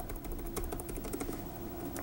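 Quick, light key taps come from the chiclet keyboard of an Acer C720 Chromebook, a soft continuous typing patter recorded close and fairly quiet.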